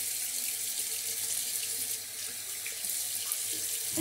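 Tap water runs steadily into a sink to wet an Omega shaving brush, a continuous close hiss of flowing water with no other sounds.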